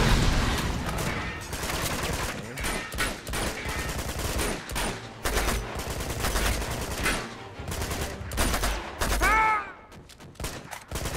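Sustained gunfire in the video game Uncharted 2, dense rapid shots and bursts continuing throughout with fluctuating loudness and brief ricochet-like tones.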